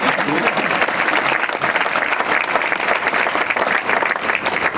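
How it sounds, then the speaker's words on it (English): Steady applause from a crowd at an elementary school dedication ceremony, dense clapping holding at an even level for several seconds. "give them a round of applause"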